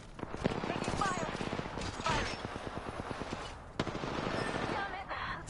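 Apex Legends gunfire: rapid automatic bursts rattling in a steady rhythm at moderate distance, broken by a few sharper single shots, with game character voices talking over the shooting.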